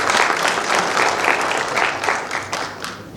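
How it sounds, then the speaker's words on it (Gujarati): An audience at an indoor program breaks into sustained applause, a dense, even patter of many hands clapping together, loud and steady with a few sharper claps standing out. "તાળીઓ પાડતા જ રહેવું પડશે"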